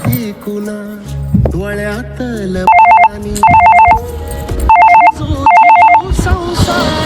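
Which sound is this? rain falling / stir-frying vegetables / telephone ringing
telephone ringing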